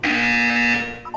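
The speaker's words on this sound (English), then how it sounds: "When you hear the buzzer, look down at the floor." Loud electronic buzzer from the video game Portal 2, a single sustained harsh tone lasting about a second before cutting off, close and alone.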